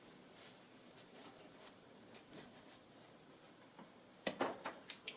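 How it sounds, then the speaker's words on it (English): A normal pair of scissors cuts through a honeycomb-textured insulation panel while installing a Danby window air conditioner: soft, irregular snips and crunches, quiet at first, then a sharper cluster of louder cuts near the end. "So I'm going to say that you can cut this with scissors."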